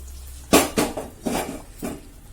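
Metal pots and utensils clink and knock close by as ghee fried with raisins and cashews is poured into a pan of broken wheat payasam, a few sharp clanks in quick succession with no one talking.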